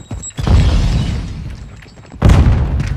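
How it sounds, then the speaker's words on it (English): A grenade explodes in the Call of Duty Modern Warfare 2 video game, a loud booming blast followed by a rumbling tail, then a second heavy burst near the end; no talk. "Grenade out."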